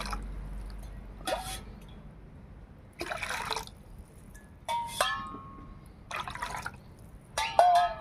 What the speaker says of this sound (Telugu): తగినన్ని నీళ్ళు పోసుకుందాం